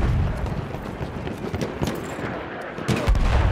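Battlefield 1 combat brings rapid bursts of gunfire and heavier booming blasts, loud and dense, with sharp cracks scattered across a rumbling battle din.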